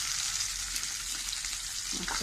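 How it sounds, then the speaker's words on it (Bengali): Fish frying in oil in a pan, a dense and continuous hissing sizzle that holds steady and close throughout, with a faint stirring sound near the end. "দেখেন আমার মাছ ভাজা হয়ে গেছে"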